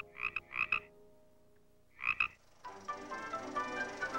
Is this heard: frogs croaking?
yes